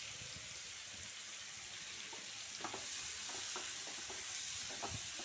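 Chopped onions frying in oil, a soft continuous sizzle with a cluster of light crackles and pops in the later half, faint and close, with no one speaking.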